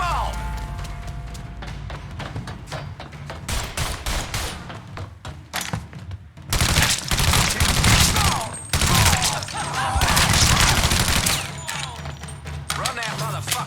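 Rapid bursts of gunfire from a Mafia 3 shootout crackle in dense volleys, loudest from the middle onward, with shouting voices mixed in among the shots.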